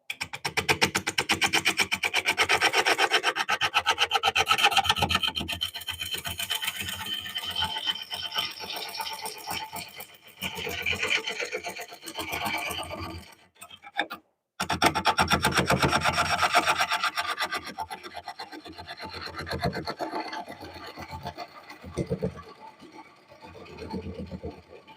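Oak turning on a lathe while a tool smooths the workpiece: a continuous close scraping whir with rough, rasping texture, one brief drop near the middle, then the cutting resumes and tapers off.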